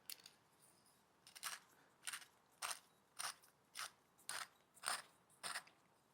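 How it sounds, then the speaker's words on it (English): A pepper mill grinds fresh coarse cracked pepper in about nine separate crunchy twists, evenly spaced and close, with no voices. "Of course, you wanna go with some fresh cracked coarse pepper."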